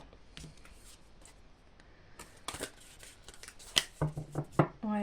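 Tarot cards are shuffled for a reading, giving soft close riffling and slapping card sounds in short irregular bursts, quiet at first and then louder near the end.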